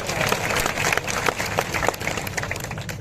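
A large crowd at an election nomination rally claps loudly and continuously, a thick wash of applause with no break across the whole stretch.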